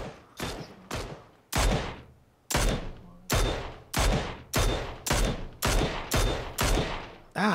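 Gunfire in the battle game PUBG: about a dozen sharp, loud shots in an uneven rapid series, each with a short booming tail, with no talk over them.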